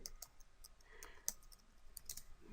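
Computer keyboard typing into Notepad, rendered as a quiet, irregular patter of light clicks with a few sharper keystrokes over low background hiss.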